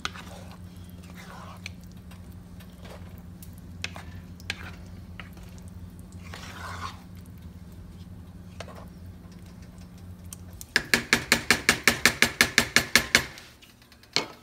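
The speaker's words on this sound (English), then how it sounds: "Take your spoon, get everything nice and wet, stir it around, just like this" A spoon stirs meatballs and spaghetti sauce in a pan, quiet scraping and faint sizzle under a low hum, then a burst of rapid, evenly spaced loud clatters near the end.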